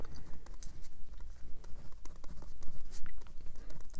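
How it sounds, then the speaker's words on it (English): A pen writes on paper while a debt snowball budget is filled in, making close, scratchy, irregular strokes and small taps over a noisy background, with no speech. "So let's just write that in."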